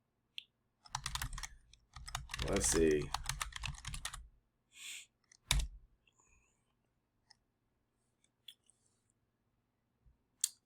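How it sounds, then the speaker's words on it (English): Bursts of computer keyboard typing and clicking, close and intermittent, with a short spoken phrase partway through and quiet gaps near the end. "I'm typing something up."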